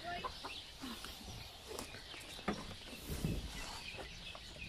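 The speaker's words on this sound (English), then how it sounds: "Some of the chicken is running, but this chicken is just only standing at the front of me." Chickens on a New Zealand dairy farm cluck and call intermittently at close range over a steady outdoor background, with a couple of sharper squawks midway.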